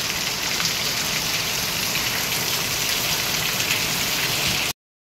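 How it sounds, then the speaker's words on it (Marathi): Heavy rain pouring down at night in Mumbai, a loud, dense, continuous roar of drops on surfaces that holds steady, then cuts off abruptly. "मस्त पाऊस आणि एकदम मस्त जोर धरला आहे."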